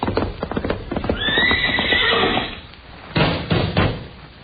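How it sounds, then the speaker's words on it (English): Horse hooves clip-clop beside a loud whinny in an old radio comedy sound effect, the neigh rising and trailing off over a couple of seconds with hoofbeats before and after. "that's a nice horse you got there, Wonderful"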